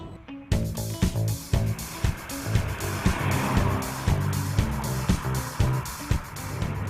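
A Subaru BRZ with a naturally aspirated engine is driven hard, its engine rising and falling through quick throttle blips and gear changes, with a steady road roar beneath the repeated revving pulses.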